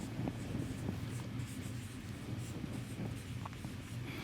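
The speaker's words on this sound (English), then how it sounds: "So, we can write here say interpolation." A pen scratches across a writing surface close to the microphone in short, faint strokes over a low steady background hum, with no talk.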